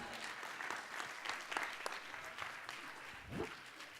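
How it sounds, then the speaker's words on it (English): Audience applause fills a comedy storytelling set, a fairly quiet, even wash of clapping lasting about four seconds, with a short low vocal sound near the end. "Give her a round of applause"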